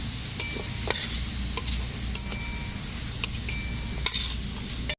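Potatoes fry in mustard oil with a steady soft sizzle, broken by periodic clinks of a utensil against the pan; no voices.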